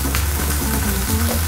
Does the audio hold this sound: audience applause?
no